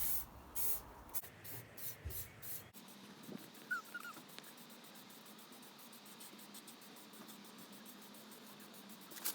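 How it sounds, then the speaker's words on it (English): Clear lacquer is sprayed from a can onto a repaired alloy wheel in a few short hissing bursts, then stops. A faint dog whimper follows in the quieter stretch. "Let's stick a couple of coats of clear lacquer on just to preserve everything."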